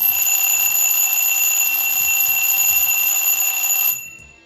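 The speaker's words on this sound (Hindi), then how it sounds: "जब आपका समय हो जाएगा तो ऐसे ही अलार्म बजेगा ये।" A bedside alarm clock rings with a steady, high-pitched electronic tone that holds evenly for about four seconds before stopping abruptly.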